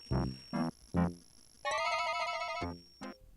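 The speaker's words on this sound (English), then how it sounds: "Oh, it's the bees. That's what that sound is supposed to be." Synthesized buzzing of bees from the King's Quest VI computer game, heard as a sustained electronic tone in the middle, set among short chiming game sound effects.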